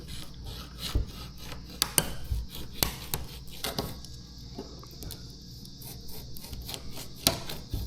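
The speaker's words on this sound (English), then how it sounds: "once you get it behind the emblem, it's just gonna be like a sawing motion" Fishing line saws behind a car emblem: repeated rasping scrapes and rubbing strokes in an irregular back-and-forth rhythm, close and fairly loud, with sharp clicks between some strokes.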